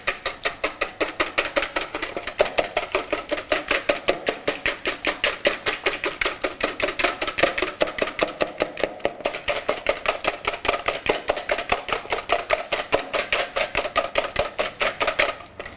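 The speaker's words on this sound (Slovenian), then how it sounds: "Sve razmutimo." A whisk beats eggs with salt, sugar and vanilla sugar in a bowl for pancake (palačinke) batter: fast, steady, evenly spaced clicking taps that keep an unbroken rhythm throughout, close and alone.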